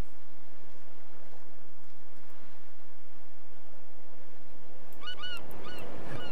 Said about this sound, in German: das war bloß ein Vogel